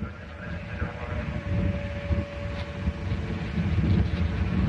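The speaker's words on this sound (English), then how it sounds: "Second stage engines are up and running in good shape." Soyuz-U rocket engines in flight carrying a Progress cargo craft from Baikonur, a continuous broad rumbling roar with a steady hum, moderately loud and slowly swelling.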